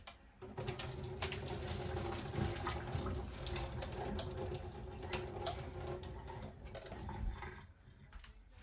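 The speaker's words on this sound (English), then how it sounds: "The potatoes are done, so I'm gonna drain these and set them aside." Boiled potatoes being drained from a pot into a sink: a steady rush of pouring water with clanks of the pot throughout, then the flow tapers off near the end.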